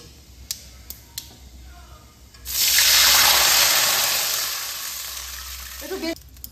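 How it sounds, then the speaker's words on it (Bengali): Water poured into a pan of sizzling tempering spices with black mustard seeds, setting off a loud, sudden hiss and splutter that gradually dies down, after a few light clinks beforehand. "এবার আমি এই ফোড়নের মধ্যে জল দিয়ে দিচ্ছি।"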